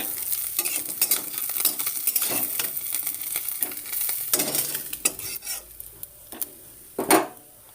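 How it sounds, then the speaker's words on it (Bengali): Small chapila fish fry in hot oil in a wok, with a steady sizzle and repeated scraping stirs of a spatula against the metal. A louder clatter comes near the end, and no one talks. "সমস্ত মাছগুলো ভেজে নিচ্ছি"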